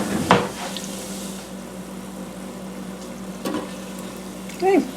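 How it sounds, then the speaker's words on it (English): Donuts frying in a deep fryer at 375 degrees, a steady soft hiss of bubbling oil throughout with a few brief clatters of utensils, near and fairly quiet. "Put them in the deep fryer."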